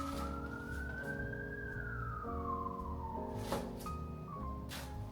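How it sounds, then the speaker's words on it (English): Emergency vehicle siren wailing outside in Brooklyn, its pitch sweeping up and down over steady traffic rumble, fairly loud and continuous. "Sirens."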